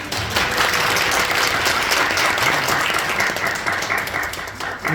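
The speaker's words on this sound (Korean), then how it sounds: "박수 치실 좀 치셔도 돼요." Audience applause at a Christmas celebration choral concert in a church, a dense, even wash of many clapping hands, loud and sustained for the whole stretch with no talk over it.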